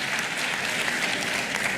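Senators fill a legislative chamber with steady, dense applause during a presidential state-of-the-nation address, an even wash of many hands clapping together without a break.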